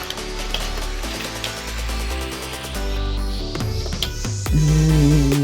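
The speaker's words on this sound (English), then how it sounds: "And this is a rattle." A 3D-printed rattlesnake toy rattle is shaken, giving rapid clicking rattles over a loud backdrop of tonal music.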